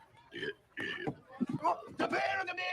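Someone burps in a series of throaty, drawn-out belches that rise and fall almost like a tune, with talking around them.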